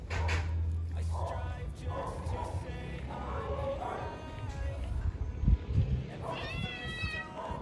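A female cat meows near people chatting, with the cries mixed under conversation and one clearer, drawn-out meow near the end.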